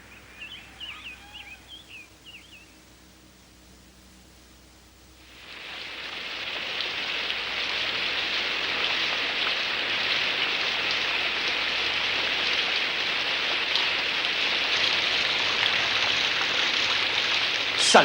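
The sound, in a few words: rain falling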